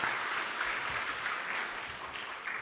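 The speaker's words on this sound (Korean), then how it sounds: "우리 유재진 전도사님 그리고 우리 김유신 전사님께 우리 감사의 박수 다시 한번 하도록 하겠습니다" Congregation applauding in a Korean Methodist church during a Sunday family-themed service, a steady, moderately loud wash of clapping lasting the whole short stretch with no voices.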